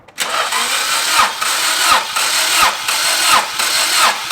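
Car engine cranking over on the starter during a compression test: a steady run of rhythmic, labored chugging pulses, close and loud, with no voices.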